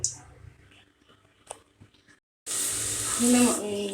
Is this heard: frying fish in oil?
yes